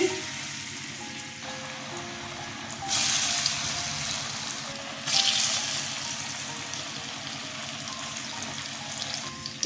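Steady hiss of hot oil, with two sudden louder bursts of sizzling as pieces of chana dal dhoka drop in to fry, continuous and close.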